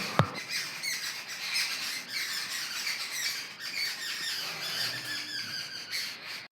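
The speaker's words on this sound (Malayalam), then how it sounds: "പക്ഷികൾ മാവിൻ്റെ താഴെയുള്ള പ്രാണികളൊക്കെ തിന്നാണ് കേട്ടോ" Birds squawking and chattering continuously as they feed under a mango tree outdoors, faint and somewhat distant, with a sharp click right at the start.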